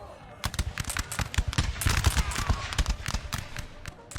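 Massed musket volleys crackle from the Napoleon Total War video game as troops take fire, rapid irregular pops and bangs layered over one another at mid distance, with a faint game rumble underneath.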